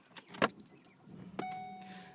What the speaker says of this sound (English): let me start my car